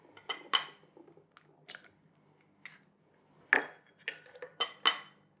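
Two eggs are cracked into sourdough rye pancake batter with oat milk, giving a series of sharp close taps and cracks against a bowl, followed by wet clicks and drips in an otherwise quiet kitchen.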